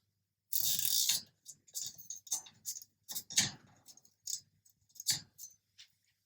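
A cable tie is pulled tight on a C&C guinea pig cage corner, making a burst of close zipping ratchet clicks followed by several shorter, uneven clicking pulls.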